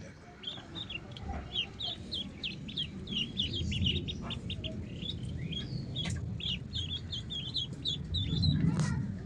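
Ten ducklings peep and chirp in quick, overlapping calls, fairly close, over a steady low rumble of background noise.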